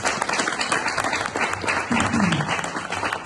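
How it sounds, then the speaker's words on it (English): Conference audience at a law association event applauds in a steady wash of clapping, with a few voices murmuring underneath. "let's give us all a round of applause for that"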